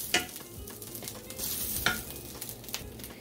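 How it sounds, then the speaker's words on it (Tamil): Cashews and grated coconut stirred and dry-roasted in a pan, a quiet, close scraping and light sizzle with small irregular clatters of the spoon. "இந்த அரை கப் தேங்காய், இந்த தேங்காயையும் சேர்த்து இதில் நம்ம வறுத்து அரைக்க போகிறோம்."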